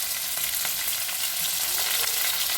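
Onions and cumin seeds frying in oil make a dense, even hiss that holds steady throughout, with faint ticks of stirring underneath and no voices.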